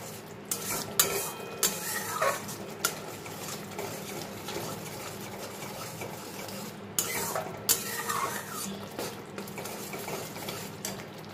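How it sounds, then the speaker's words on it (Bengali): A spice masala with Kashmiri chili powder and sugar is stirred in a pan, giving a steady scraping and clinking of a spoon against metal over a continuous low sizzle, with occasional louder scrapes and no talk. "এবার এই দুটো দিয়েও মশলাটাকে আমি বেশ কিছুক্ষণ ধরে কষিয়ে নেব।"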